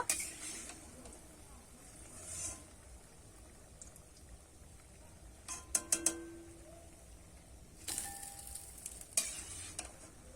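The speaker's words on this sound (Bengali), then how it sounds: "আমার কিন্তু সব বড়াগুলো ভাজা হয়ে গেছে" Sweet carrot fritters sizzle quietly in hot oil and are lifted out, a low steady fry broken by a few sharp clinks and scrapes of a utensil against the pan.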